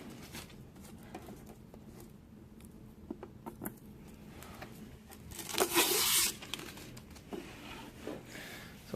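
Adhesive tape peels off a new Optoma HD142X projector with soft crinkling and a brief louder tearing rip, close up and quiet with no talk.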